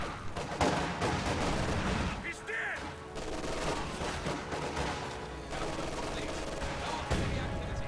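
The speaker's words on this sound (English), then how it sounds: "ML20 firing on this blob!" Gunfire in a strategy video game, with an ML-20 artillery gun firing on a group of troops. Dense, continuous battle noise with repeated loud reports and a busy barrage throughout, under a commentator's voice.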